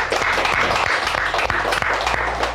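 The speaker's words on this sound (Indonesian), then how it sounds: "Boleh kita tepuk tangan untuk mereka" Studio audience applauding four stand-up comedians at a comedy hangout, a dense steady wash of clapping that stays loud throughout with no gaps.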